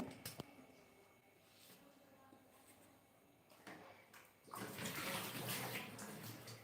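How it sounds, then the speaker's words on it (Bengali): Water runs and splashes in a kitchen sink while baby's bottles are rinsed and washed, quiet at first, then a louder steady gush of flowing water in the last couple of seconds. "এই যে বোতলগুলো একটু ধুয়ে নিই"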